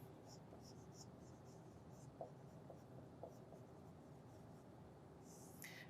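Handwriting during a surveying lesson on closing error, a pen or marker scratching in soft intermittent strokes against a steady background hiss, with a brief sharper scrape near the end.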